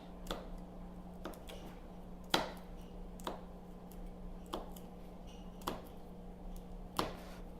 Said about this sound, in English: we're cutting the onions first